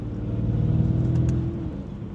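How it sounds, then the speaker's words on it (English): Stage 2 tuned Mercedes E63s AMG engine revving from inside the car, a loud steady low drone and whir that eases slightly near the end, with no distinct blow-off valve burst standing out. "You can hear the blow off valve real nice."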